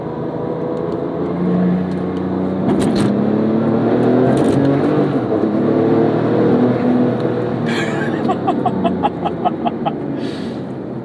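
A 2008 Porsche 911 GT2 (997) engine drones loud and steady under hard uphill driving, its pitch swelling and settling through the run, with a few light ticking sounds near the end.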